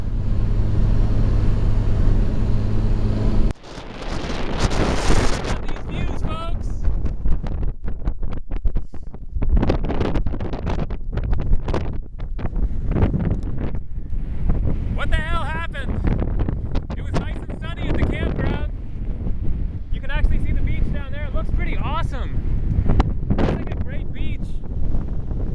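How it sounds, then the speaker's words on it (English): Strong wind on the Oregon coast batters the microphone in heavy, continuous roaring gusts after a brief opening, loud and close throughout, with a voice speaking intermittently over it. "Crazy windy and no sun."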